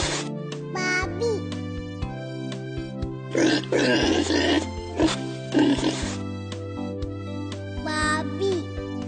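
A farm pig oinks and grunts in short rough bursts, close and moderately loud, with a voice and a steady tonal background underneath.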